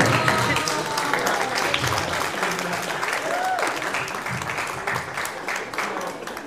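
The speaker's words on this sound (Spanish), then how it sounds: "un aplauso para las autoridades del PRI" Dense applause fills a hall at a tournament awards ceremony, loud and steady throughout as the audience claps for officials, with a few voices mixed in underneath.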